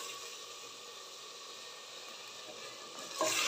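Chicken frying in a pan gives off a soft, even hiss that holds steady throughout, quiet and close, with a brief louder burst near the end.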